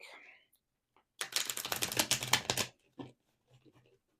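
Tarot cards are shuffled in a quick riffling burst lasting a couple of seconds, followed by a few soft taps and rustles in otherwise quiet surroundings.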